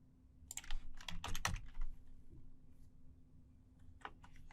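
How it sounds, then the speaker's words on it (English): Typing on a computer keyboard while entering a command in a network scanning tool, a quick cluster of close, crisp key clicks and then a couple of further taps in a quiet room. "so we're going to type in run"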